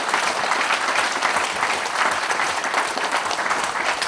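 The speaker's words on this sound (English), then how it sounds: "Have a round of applause for Alan for his lifetime work." A lecture audience applauds a man for his lifetime of work with a loud, dense, continuous round of clapping from many hands. The applause holds steady for several seconds without talking.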